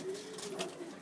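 Pigeons from Bhopal, a small, fine-flying breed kept in a loft in Ujjain, give a soft, faint coo lasting about a second, with no voices over it.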